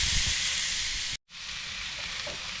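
Big, thick steaks sizzle loudly and steadily on a grill, a dense close-up hiss that cuts out for a split second before carrying on.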